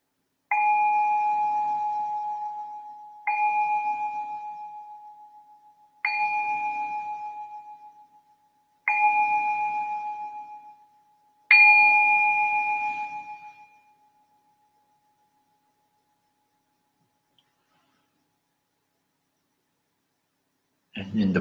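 Meditation bells ring five times in slow succession, each clear metallic tone sustaining and fading before the next strike, followed by a long quiet stretch with a faint rustle at the very end.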